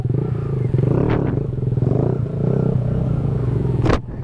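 A Z125 motorcycle engine revs unevenly as the rider struggles with stalling, with a steady mid-low drone, brief throttle blips and a sharp clattering burst near the end.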